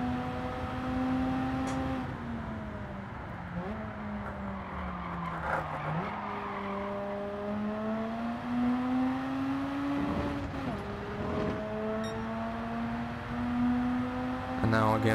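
A Mazda RX-8 at full throttle in Gran Turismo 7 gives a loud, steady engine drone that climbs in pitch, with brief dips at gear changes, close and continuous throughout.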